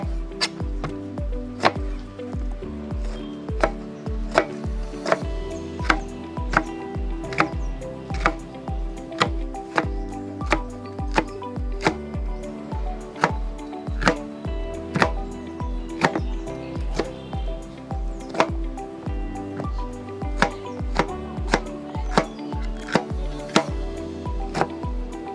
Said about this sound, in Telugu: ఎక్కువ క్వాంటిటీలో మష్రూమ్స్ ఉండడం వల్ల కొంచెం కటింగ్ ప్రాసెస్ లేట్ అవుతుంది